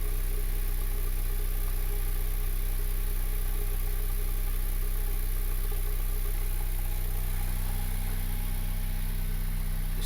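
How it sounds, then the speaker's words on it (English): A damaged, smoking Honda Civic with a turbocharged R18 engine runs after start-up, making a loud, constant engine drone with a strong low hum and no change in pitch. "We started up the car"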